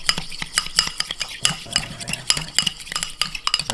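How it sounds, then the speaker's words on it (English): Mayonnaise with wasabi and roasted garlic aioli is whipped in a bowl, giving quick, rhythmic scraping and clicking strokes at close range with no speech. "we might do the whip up the mayo"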